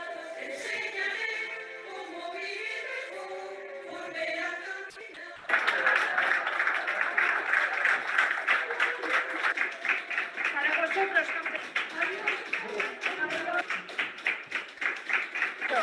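Hospital nurses applauding as patients are discharged, with a steady burst of many hands clapping that starts suddenly and continues. Someone speaks over music before it, and her voice carries on faintly over the applause.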